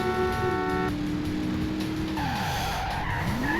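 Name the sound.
Apex car driving, from video game Driver Syndicate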